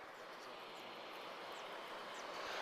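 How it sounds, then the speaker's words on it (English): A fixed-wing airliner departing the runway at Lisbon Airport roars as a broad, distant engine rumble that swells steadily louder, with no voices over it. "And we're getting another full runway departure."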